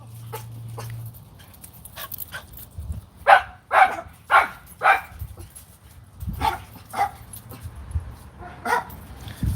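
Dogs bark repeatedly in short bursts, some yips and whimpers mixed in, moderately loud with brief pauses between volleys.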